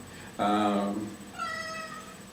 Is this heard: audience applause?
no